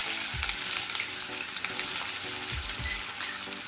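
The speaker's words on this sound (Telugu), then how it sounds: "కాస్తంత దాల్చిన చెక్క వేసుకొని ఫ్రై అవనివ్వాలి" Whole spices, cumin, fennel, cloves and cinnamon, fry in hot oil in a pan for an egg curry, giving a steady close sizzle with a few soft scrapes and knocks from stirring.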